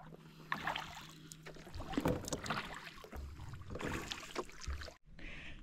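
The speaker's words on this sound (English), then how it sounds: "Let's do kayaking with me." Kayak paddling on water in Khao Sok National Park, Thailand, with irregular splashes and paddle strokes close by under light wind rustle, and a brief dropout near the end.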